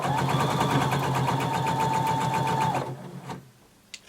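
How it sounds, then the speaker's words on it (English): Sewing machine stitching a 5/8 inch seam across the bottom of a garment, a fast steady mechanical chatter running close and loud for nearly three seconds before stopping, followed by a small click. "now we're going to sew all across the bottom using 5/8 of an inch seam allowance"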